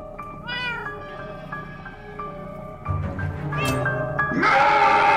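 A cat in the Minecraft Story Mode game meows repeatedly, with several drawn-out, tonal meows that build toward a louder, harsher caterwaul near the end over faint game background sound.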